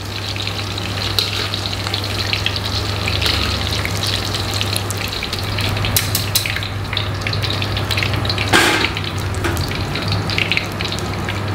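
Steady crackling sizzle of lung frying in hot oil, continuous and close, with occasional sharper pops and a brief louder hiss near the end.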